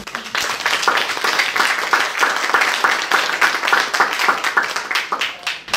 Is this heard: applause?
yes